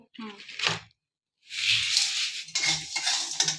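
Rice and lentils being fried red in a pan for a homemade cereal mix, with stirring scrapes and sizzling in bursts separated by a short pause, close and fairly loud.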